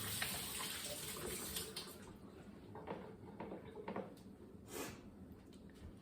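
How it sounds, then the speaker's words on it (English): Hands being rinsed under a running kitchen sink tap while cooking mushroom and onion sirloin steak: a steady, close wash of flowing water with splashy bursts, no talking. "let me wash my hands off"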